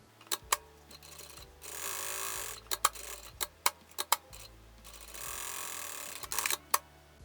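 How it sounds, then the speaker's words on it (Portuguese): A sewing machine stitches topstitched seams along the sides of a fabric hobo bag, with bursts of steady whirring between short pauses and sharp clicks and taps, heard close and fairly quiet with no talking. "Aí eu vou passar 2 costuras aqui, pespontando nessas laterais."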